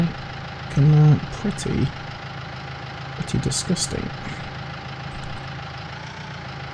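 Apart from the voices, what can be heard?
farm tractor engine idling in Farming Simulator 19 video game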